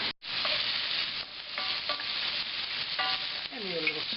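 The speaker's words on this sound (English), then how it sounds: "I'll let them saute." Onions sauté in a pot for caponata, giving a steady, close sizzle with occasional stirring scrapes and clinks, loud and continuous without any talk.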